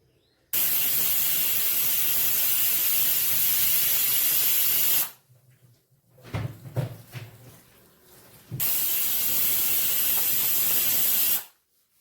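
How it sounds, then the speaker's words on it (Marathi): A pressure cooker cooking bottle gourd curry releases two long, loud bursts of hissing steam, each lasting several seconds, with quiet rattling clatter in the pause between. "याला झाकण लावूया आणि दोन शिट्या होऊ देऊया"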